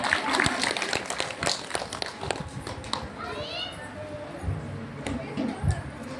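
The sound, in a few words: audience clapping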